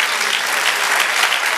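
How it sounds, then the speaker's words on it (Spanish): Church congregation applauding, a dense, steady wash of clapping from many hands that fills the space evenly and continuously, with no voices standing out. "Dale aplauso al Señor."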